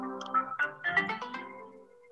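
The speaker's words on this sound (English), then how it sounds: "I opened up a game on my phone." The Wordscapes mobile word game plays its opening jingle on a phone, a short bright chiming melody of layered tones lasting about two seconds, close and alone.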